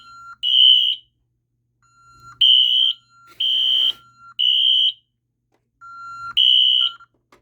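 A mini fire alarm system horn sounds in coded pulses, sharp loud electronic beeps in short bursts with gaps, each blast preceded by a faint lower tone, near and alone.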